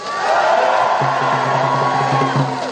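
Students cheering loudly at an outdoor anti-Pegida demonstration in Newcastle, a broad sustained roar of crowd noise with shouts and whoops throughout, and a voice calling over it partway through.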